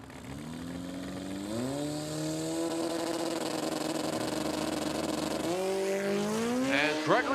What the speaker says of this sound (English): Reggio is rolling the car forward to try to stage it.